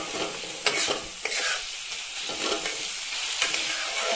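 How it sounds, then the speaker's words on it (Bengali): Spice masala for brinjal bharta sautéing in a pan: a steady close sizzle with repeated stirring scrapes and a few sharper utensil knocks, no voices. "ভালো করে মশলাটাকে কষিয়ে নেব।"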